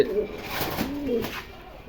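A pair of grizzle pigeons in a home loft give soft, low cooing calls, close by and moderately loud over a steady background hiss.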